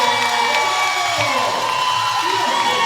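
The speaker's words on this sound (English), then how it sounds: "Listen to that crowd." Crowd at a women's bronze-medal basketball game, Sussex against CP Allen, cheers loudly after a made three-pointer, a dense roar with whoops running the whole time.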